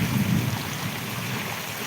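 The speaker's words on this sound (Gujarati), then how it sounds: "માનગઢમાં અત્યારે જોરદાર વરસાદ વરસી રહ્યો છે" Heavy rain pours down in Mangadh, Gujarat, as a steady, dense hiss that rumbles a little louder at first before settling into a constant wash of falling water.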